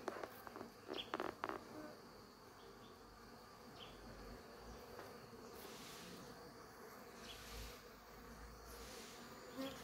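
Honeybees buzz around a beehive at midday in a continuous close hum with a few louder passes and light knocks near the start, and no one speaks.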